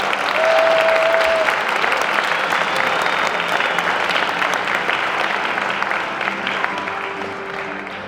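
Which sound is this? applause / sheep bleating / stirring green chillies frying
applause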